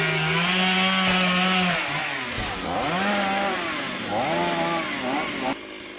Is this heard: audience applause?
no